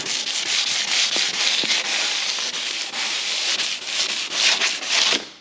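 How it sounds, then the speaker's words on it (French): Sandpaper scrubs steadily across the fenders of an Audi A2 during bodywork prep, making a continuous close, loud abrasive hiss with quick back-and-forth strokes and no talking. "Ensuite, on va poncer aussi les ailes."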